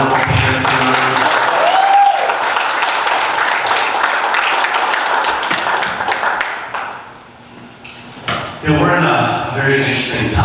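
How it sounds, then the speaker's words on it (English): An audience claps at a Lincoln Day dinner in a burst of applause that fills the first several seconds, then fades out, followed by a voice speaking over the room. "join me in a round of applause for Steve and for all the wonderful parents"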